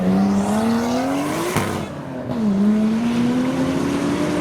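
A Nissan Skyline R34 engine revs up hard at a car meet, dips briefly, then climbs again in a loud, nearby roar.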